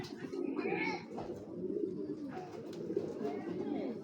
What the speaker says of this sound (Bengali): এটা কবুতর ব্ল্যাক চেকার একটা নর